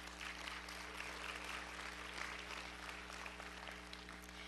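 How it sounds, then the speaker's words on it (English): An audience at a Fortis Institute graduation ceremony claps steadily, a broad even wash of hands heard from some distance over a constant low electrical hum. "Give yourselves another big hand clap."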